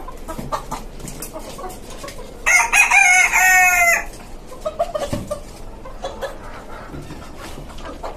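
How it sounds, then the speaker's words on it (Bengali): Roosters on a caged chicken farm atop a five-storey rooftop cluck softly, then one crows loudly for about a second and a half in the middle, followed by more scattered clucks over faint background noise. "আজকে আমি আমার মোরগগুলোকে বের করছি খাঁচা থেকে।"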